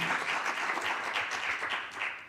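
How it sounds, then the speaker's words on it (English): An audience at an innovation talk session applauds, a dense continuous patter of many hands clapping at fairly even loudness throughout, with no voices on top. "Also a big applause to Siemens and the European Union's"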